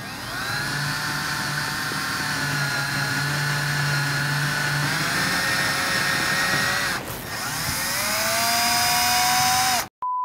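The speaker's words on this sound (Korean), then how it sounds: "이렇게 드릴로 뚫고 나서 제가 이제 탭 작업을 할 건데요" An electric drill bores a 4.2 mm hole in metal before tapping, its motor whining steadily at close range with a shifting pitch under load, a short dip midway, then cutting off abruptly.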